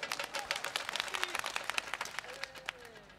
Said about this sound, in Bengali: এগোজন্য জোরে এক মিনিট হাতে তালি